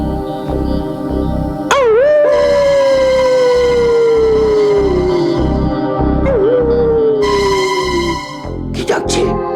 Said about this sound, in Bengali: একটা কুকুর প্রাণপণে ডাকছে।